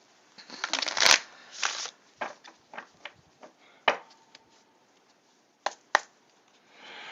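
Angel cards being shuffled close by, bursts of riffling and soft flicks separated by short pauses, fairly quiet with no talking.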